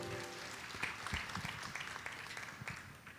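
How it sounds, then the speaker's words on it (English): Applause from an audience at a national agribusiness summit, a soft, steady patter of many hands clapping, heard from a distance and fairly faint. "A big round of applause, please."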